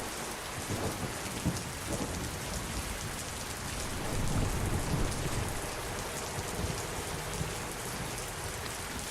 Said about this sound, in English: We got a bit of a thunderstorm going on here.